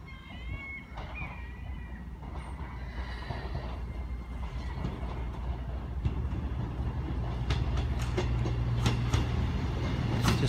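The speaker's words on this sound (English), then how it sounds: "Got the cross country service to Penzance now coming in." A CrossCountry train to Penzance pulls into Exeter St David's station, a low rumbling roar that builds steadily with squeals and clicks of wheels on rail, joined by a deep engine drone toward the end.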